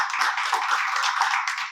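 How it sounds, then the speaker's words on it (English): Audience applause at a morning business event in Rapid City, a dense, steady wash of many hands clapping close and loud for the full short stretch, with no voices over it. "let's give it up for Kodee Furst"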